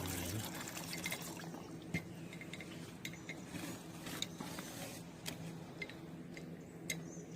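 Water is poured into a cadmium chloride chemistry mixture, giving a steady liquid trickle and splashy hiss with scattered small clinks and ticks of glassware, close up, with no talking.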